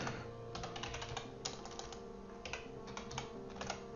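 A troublesome computer keyboard is typed on up close, with quick bursts of clicky keystrokes and short pauses between them, over a faint steady background tone.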